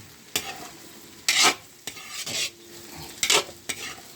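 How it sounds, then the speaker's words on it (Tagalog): Pancit bihon with Baguio beans, kikiam and vegetables is tossed over heat, with repeated loud bursts of spatula scraping and stirring over a low sizzle, close and without speech. "Pagluto ng pansit."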